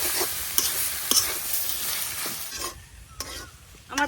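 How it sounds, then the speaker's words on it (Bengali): Jute leaves being stir-fried in a pan in a village kitchen, with soft sizzling and scraping, a few sharp clacks of the spatula against the pan, then quieter stirring, close up. "শাকটা এখন কিছুক্ষণ বাইজে নিলাম।"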